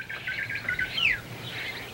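A myna bird in a 1965 television episode gives a short, clear call: chirpy warbling notes that end in a sharp rising whistle-like squawk, close and fairly loud against a quiet background.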